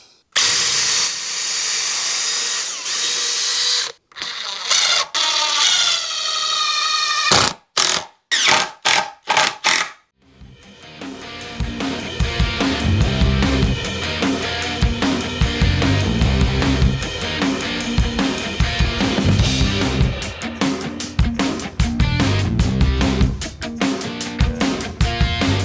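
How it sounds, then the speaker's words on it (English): A close, loud power drill pre-drilling wood for a barn door runs in a long whine, then several short stop-start bursts, followed by a rough grinding, ratcheting drive into material. "Gonna pre-drill."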